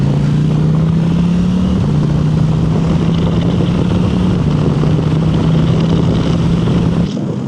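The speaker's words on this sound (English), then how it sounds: "This exhaust sounds so good." A KTM 890 Adventure motorcycle's exhaust drones steadily and loudly while it is ridden, holding a low, even engine note that shifts slightly in pitch before cutting off near the end.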